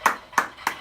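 Three short, sharp bursts of recorded applause fire in quick succession from a sound-effect button, loud and close.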